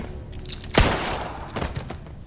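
A single gunshot in the Aliens: Colonial Marines video game, a loud close blast followed by a rumbling decay and dense game background noise.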